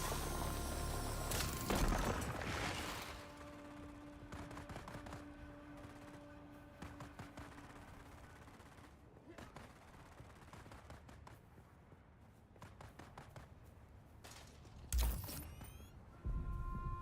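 Many guns fire in Dune Awakening, with scattered bursts of distant rapid gunfire and several louder, closer volleys near the start and end, mixed with faint mechanical clanks.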